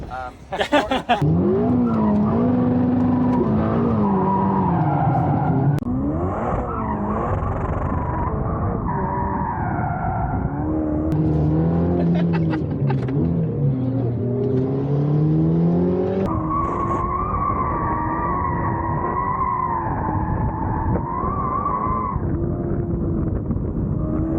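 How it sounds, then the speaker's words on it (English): Car doing off-road donuts, its engine revving hard and rising and falling in pitch as tires skid and spin on loose ground, loud and continuous for the whole stretch. "donuts are happening. This time off-road donuts."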